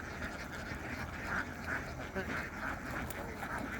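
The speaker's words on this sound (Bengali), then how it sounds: "এই হাঁসগুলো চড়িয়ে পোকা টোকাকে ছোটো খাওয়িয়ে এখন ওদের বাসস্থানের দিকে নিয়ে আসছেন।" A flock of ducks is herded home across the fields by farmers in the evening at a wetland beel in Chandina, with repeated scattered quacks rising over steady outdoor background noise.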